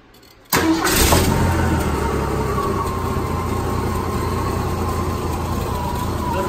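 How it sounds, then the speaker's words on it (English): An old truck with a 300 engine cranks once and fires right up after being primed with fuel. It settles into a loud, steady idle that runs on its own, close up and without voices. "tap the key and it fires right off and runs on its own"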